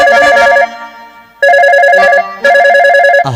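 A telephone rings after a number is dialed, loud electronic ringtone bursts repeating in three bouts separated by short gaps during a stage comedy performance, with no talk over it.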